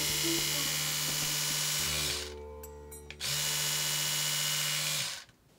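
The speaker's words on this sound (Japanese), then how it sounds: "電動歯ブラシ" A Braun electric toothbrush on mains-charger power buzzes loudly and steadily, cuts to a quieter hum for about a second, then resumes its strong whine before stopping abruptly near the end.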